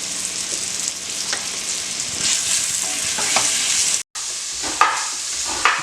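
Food sizzles steadily in a hot pan, an 18th-century sailor's ration dish, a dense crackling hiss with occasional stirring scrapes from a wooden spoon and a brief cut near the end.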